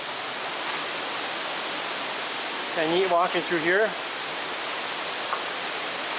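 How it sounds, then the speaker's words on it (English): Waterfall water rushing in a steady, even roar, with a voice speaking briefly over it partway through. "Now we get some waterfall views right here."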